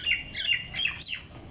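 A bird calling from a moringa tree in a Bangladesh village, giving a few quick, fairly faint squawking chirps in a short burst with no talk.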